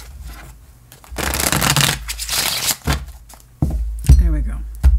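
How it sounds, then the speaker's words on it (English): Tarot cards are shuffled by hand in close, crisp riffling bursts, interrupted by short pauses and taps, with a voice speaking briefly between. "go back and shuffle some more"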